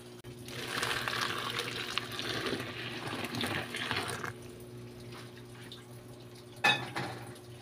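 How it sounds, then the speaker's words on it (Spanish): Boiling water pours steadily into a container holding laundry soap for a few seconds, then stops, followed by a quiet pause and a brief clink near the end. "Le voy a colocar el agua hirviendo."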